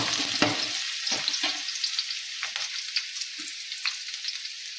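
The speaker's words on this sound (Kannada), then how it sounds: "ಈಗ ಬೆಳ್ಳುಳ್ಳಿ ಹಾಕ್ತೀನಿ, ಸ್ವಲ್ಪ ಹಾಕ್ತೀನಿ. ಈಗ ಇದನ್ನು ಚೆನ್ನಾಗಿ ಮಿಕ್ಸ್ ಮಾಡ್ಕೊತೀನಿ." Garlic stir-fried in a pan after mustard seeds, for a cluster bean palya: a steady crackling sizzle with scattered stirring scrapes and clicks, close and alone with no talk.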